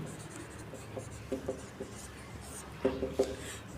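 Chalk or marker taps and strokes as a maths solution is written out on a board. Short scratchy bursts come in two clusters over quiet room tone, close and moderately loud.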